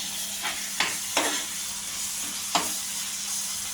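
Eggplant frying in a pan for masala vankaya, a steady close sizzle with a few sharp scraping strokes of a spoon stirring the pieces, no voices.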